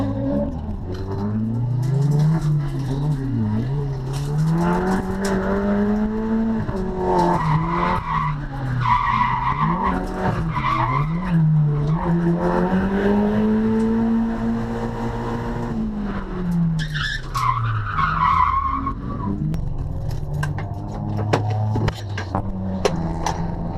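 A CA18DET-powered drift car brakes hard on a track, tires skidding in a long continuous screech with wavering pitch over engine noise for about twenty seconds, with no talk.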